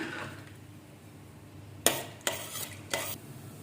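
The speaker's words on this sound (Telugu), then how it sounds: "ఆయిల్ హీట్ అయింది, తాలింపు గింజలు వేసుకుంటున్నాము." Three quick bursts of crackling sizzle as tempering seeds hit hot oil, separated by short pauses over a quiet background.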